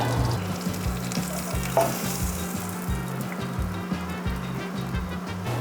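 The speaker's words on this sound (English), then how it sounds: "now that the butter is melted, take it out and add our batter straight into the pan." German pancake batter goes into hot melted butter in a pan, giving a soft, steady sizzle and frying hiss with a faint low hum underneath and no talking.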